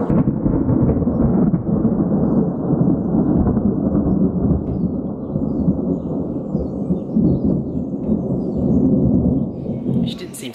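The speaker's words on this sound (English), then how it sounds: "Probably the first loud thunder that Story's ever heard." A loud, deep rumble of thunder rolls on without a break, low and heavy, holding its strength throughout with little change.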